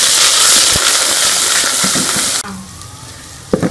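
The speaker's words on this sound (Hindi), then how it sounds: "इसके अंदर ये लहसुन अदरक का पेस्ट डाल देंगे।" Garlic ginger paste hits browned onions in a pot and gives a loud, dense hiss of frying. It drops suddenly to a quieter sizzle, then a brief clatter of stirring comes near the end.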